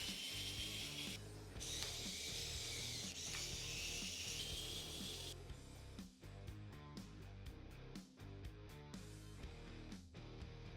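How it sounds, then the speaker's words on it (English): Small screws are worked out of the back of a PS Vita, giving close, quiet rubbing and ratcheting clicks at first, then a run of short, separate ticks and clicks near the end. "then we gotta take off all the screws on the back."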